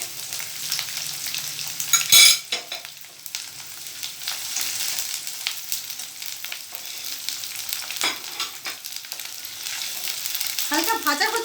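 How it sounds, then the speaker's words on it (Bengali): Ginger paste frying in a pan, a close continuous sizzle with a loud scrape or clatter early on and intermittent stirring noises through the rest. "আবার একটু ভেজে নিচ্ছি।"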